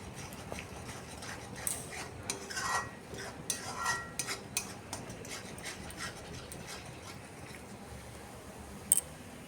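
Spice masala being stirred and fried in a pan while cooking a green banana and egg dish, giving soft intermittent scraping and clinks of a spatula against the pan over a faint low background.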